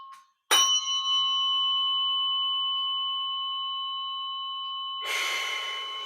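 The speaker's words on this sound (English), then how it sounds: "pointing the tuning fork into your back towards your feet, through the backbone" A tuning fork is struck with a sharp attack, then rings as a steady, pure sustained tone that slowly fades, with a brief breathy rush near the end, close and without talk.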